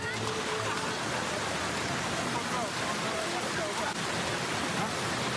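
Swollen river after a flash flood in Sibiu-biu village, Sibangun, Central Tapanuli, with strong current: a loud, continuous rushing roar of water that holds steady throughout.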